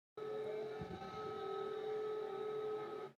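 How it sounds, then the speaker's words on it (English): A Ukrainian air raid siren, a sustained loud wailing tone held steadily for about three seconds, broadcast-recorded and heard alone. "I'll play the air raid siren sound."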